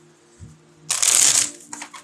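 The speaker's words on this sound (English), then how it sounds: "So I'll just get the tarot cards as well. I'm just going to give it a good shuffle." Tarot cards get a quick riffling shuffle, a brief close burst of papery flutter lasting about half a second, followed by a few faint card taps.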